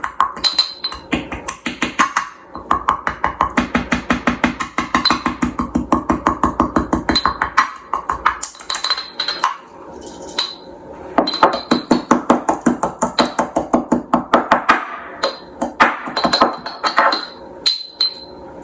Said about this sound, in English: So I have in here about 3 cardamom pods and my little water and pestle.